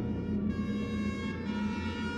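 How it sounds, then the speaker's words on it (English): Police vehicle sirens in an audio drama, a sustained wailing tone with a rising and falling pitch sweep, loud and continuous over a short stretch with no talking. "The lights and sirens of police vehicles, followed by a few town cars, were coming up the long, winding driveway."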